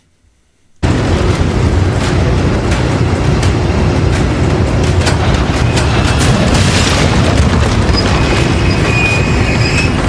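Gunfire and explosions in the Resident Evil 4 Remake video game, a dense, continuous roar of loud blasts and crackling debris that erupts after a brief silence and holds steady throughout.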